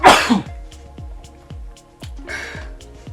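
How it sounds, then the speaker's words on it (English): A single loud sneeze into an elbow bursts out at the start, followed by quieter rhythmic tapping and a second breathy rush. "you see how I covered my sneeze in my elbow?"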